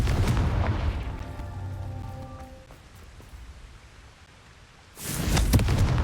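A Confringo fire spell explodes in Hogwarts Legacy, a loud booming blast arriving near the end after a stretch of rumbling game ambience and fading tones.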